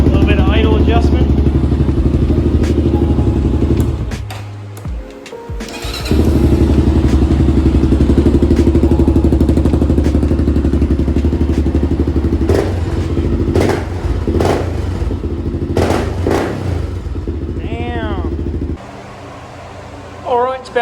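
A Honda 400EX ATV engine idles loudly and steadily during an idle adjustment, the pitch dipping briefly midway, with occasional clatter and workshop noise mixed in.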